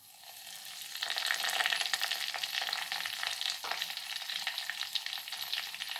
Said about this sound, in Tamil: கடுகு பொரிஞ்சிடுத்து. இப்போது கருவேப்பிலை